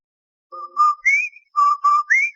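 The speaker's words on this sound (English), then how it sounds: "That whistle. That's the Rinso White whistle." A two-part whistled call repeated twice, each a low note rising to a high one, clear and close with no talk around it; a radio sponsor's signature whistle for Rinso White from an old-time radio Christmas show.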